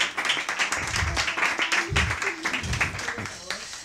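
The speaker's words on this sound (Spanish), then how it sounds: "un aplauso para este experimento." Applause for a science experiment at a bar science event, a crowd clapping in a steady patter with voices talking over it the whole time.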